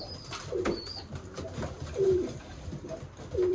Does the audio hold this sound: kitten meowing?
no